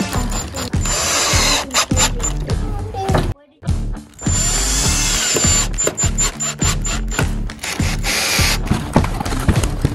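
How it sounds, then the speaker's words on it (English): A power drill driving screws while a toy guinea pig house is built: loud, busy bursts of whirring and clattering, stopping briefly midway, with mechanical knocks throughout. "And the power drill."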